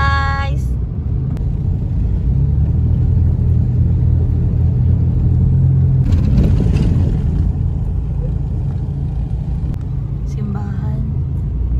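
A 1998 Toyota Corolla drives along town roads, its engine and road noise forming a steady, loud low rumble throughout. Brief shifts in the engine note come midway.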